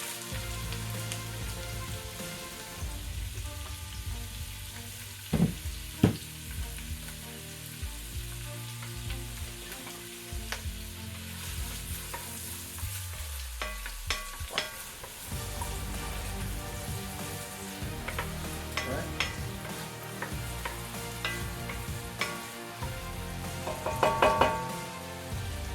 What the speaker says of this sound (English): So to my Dutch oven, I'm going to add the celery, carrot, and the bay leaf.